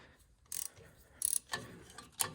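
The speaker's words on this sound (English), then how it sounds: "Help if I keep the ratchet wrench on there." A ratchet wrench works a 1/2-inch bolt loose during a generator rebuild on an Oliver Super 66 tractor, giving four short, separate bursts of clicking that are close and fairly quiet, with no talk.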